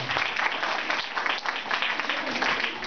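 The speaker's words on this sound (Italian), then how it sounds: "Possiamo fargli un applauso, grazie." Dense applause from a classroom of students for a guest fills the room, loud and continuous from start to finish.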